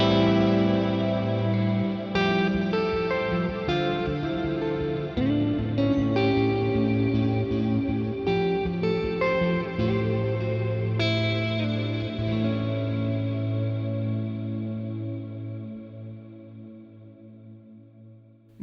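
Ambient electric guitar notes and chords run through a Plex delay block set up as reverb, layered washes swelling and overlapping, then trailing off in a long fading tail with no talking.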